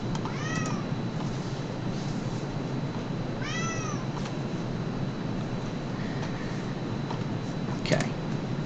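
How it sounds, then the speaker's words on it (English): A cat lets out two short, rising-and-falling meows a few seconds apart, fairly close, over a steady low background hum, with a faint extra mew later on. "Oh, meow yourself, you daft animal."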